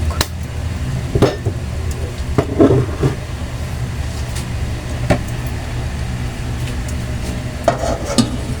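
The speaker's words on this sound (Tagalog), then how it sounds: "Lagyan na po natin ng mantika at atin pong igigisa yung ating manok." Steady low frying hiss of chicken sautéing in hot oil, with occasional stirring clatter and scrapes over a constant background hum.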